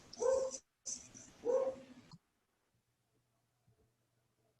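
A German Shepherd Border Collie puppy lets out two short, close barks or yips with a brief gap between them, followed by near silence.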